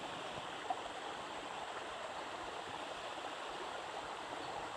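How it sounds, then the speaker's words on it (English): Water flowing into a drain from a small man-made waterfall near Innisfail, Australia, heard as a constant, even rushing hiss, fairly faint and unbroken, with no voices. "Just water flowing into the drain"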